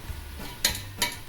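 A soffritto of onion, celery and leek in olive oil is stirred in a pot, with two brief scraping strokes of a utensil over a faint sizzle.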